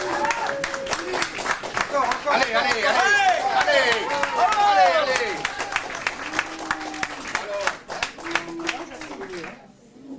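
Cabaret audience at a staged show clapping in rhythm, sharp repeated claps under lively shouting and several voices, fading out toward the end.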